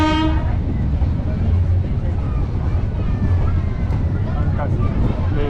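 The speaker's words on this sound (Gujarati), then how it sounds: "કાંસિયાને સ્ટેશનથી ટ્રેન અત્યારે નીકળી ગઈ છે" A train pulls out of Kansiya Nes, a small railway station in the Sasan Gir forest, its steady rumble and rolling clatter continuous and fairly loud, with a brief horn-like tone early on and voices talking over it.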